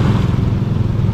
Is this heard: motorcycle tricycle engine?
yes